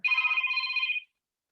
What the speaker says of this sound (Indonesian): Sebentar, ada telepon ini dari mana ini?